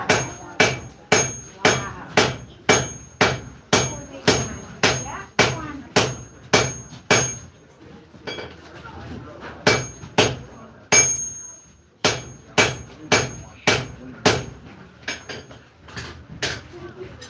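A blacksmith forges an axe, striking hot metal with a hammer in a steady run of sharp, ringing anvil blows, loud and close, with a short pause partway through before the rhythmic strikes resume.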